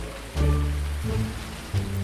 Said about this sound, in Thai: ฝนตกครับนะฝนตกด้วยนะ